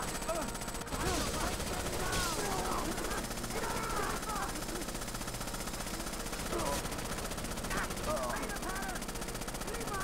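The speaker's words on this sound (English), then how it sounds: "don't go up there, there's a machine gun." Machine gun fire in the video game Rainbow Six: Vegas 2, rapid continuous bursts of gunfire heard under steady game noise while voices talk throughout.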